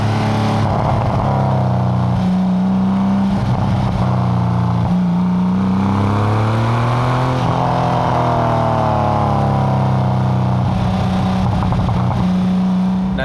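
A Porsche 911 of the 993 Carrera generation, an air-cooled flat-six around 30 years old, pulls hard through the revs, its loud, steady engine note rising and falling as gears change, close and without talk.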